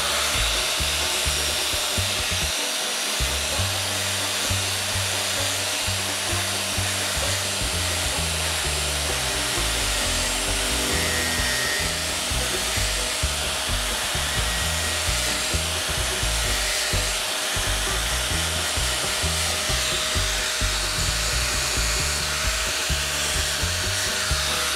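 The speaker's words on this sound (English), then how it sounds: "Grab a palm sander with 220 grit on it." A palm sander fitted with 220 grit paper works over a cracked wood carving, a continuous loud whirring hiss with shifting low rumble as the pad moves across the surface.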